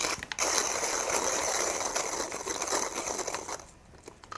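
Coffee beans run through a home coffee grinder set about three clicks coarser, giving a close, continuous ratcheting crunch that rattles steadily before thinning out near the end, with no talking.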